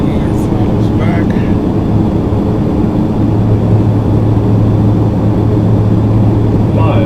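Aircraft engines roar loud and steady as the throttles are pulled back after takeoff, a continuous close drone with low tonal hum.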